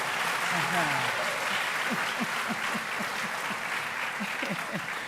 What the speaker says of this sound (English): Clap again, clap again.